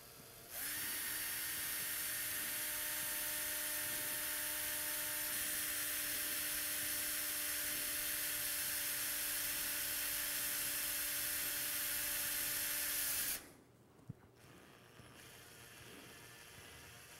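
A surgical drill bores through cadaver bone and out the opposite cortex, a loud, close, steady high whine lasting about thirteen seconds before cutting off, followed by a single faint click.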